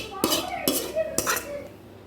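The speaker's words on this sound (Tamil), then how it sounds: "நம்ம எடுத்து வச்சு அரைச்சி வச்ச மாவில் தட்டிடுங்க" Sautéed ingredients tipped from a pan into ground adai dosa batter: three close, sharp metallic taps of the pan or spatula against the vessel rim, ringing briefly, with no talk.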